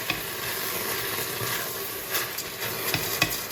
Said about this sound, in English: I am mixing and stirring to make sure all the alcoholic part of the wine evaporates